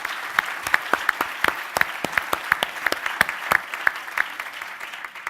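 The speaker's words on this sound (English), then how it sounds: "Round of applause for Bill, please." Audience applause for a speaker at a live debate event on co-working office spaces: a modest crowd claps in sharp, fairly evenly spaced individual claps that stay steady and close for the whole stretch.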